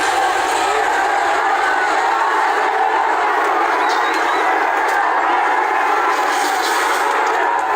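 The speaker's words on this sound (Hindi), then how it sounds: "भीड़ उग्र हो गई।" A large agitated crowd at Hola Mohalla in Nanded roars in a dense, continuous wall of shouting and cheering, loud and unbroken throughout.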